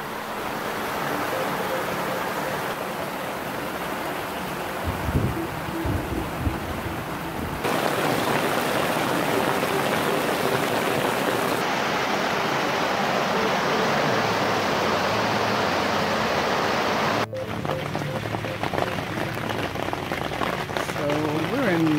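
Steady, dense rain from an overnight downpour pattering hard on a taut tarp overhead at a campsite, a continuous wash of noise with brief shifts in intensity.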